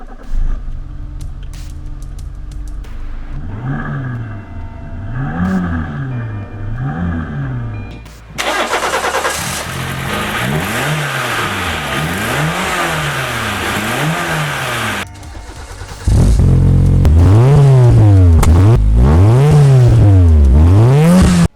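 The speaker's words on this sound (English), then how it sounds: "Let me start the car and quickly show you the engine bay," A 1994 Suzuki Swift GTi engine starts and idles, then is revved repeatedly in rising and falling sweeps, first near the engine bay and then louder at the exhaust, with no talking.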